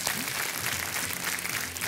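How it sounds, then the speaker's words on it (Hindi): A studio audience on a television quiz show welcomes a contestant with applause, a thick, continuous roar of clapping heard close and loud. A faint musical tone lies beneath it. "तालियों के साथ इनका स्वागत किया जाए।"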